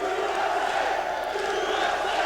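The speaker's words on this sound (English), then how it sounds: "a chant of USA by the crowd for the American from Iowa" A large arena crowd at a WEF mixed martial arts event chants in unison for an American fighter, a dense, loud, rhythmic roar of many voices.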